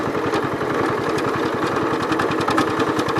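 A 1973 John Deere 110 gear-drive lawn tractor runs steadily up close, its engine giving a continuous rapid chugging with a whirring drivetrain beneath, loud and unbroken throughout.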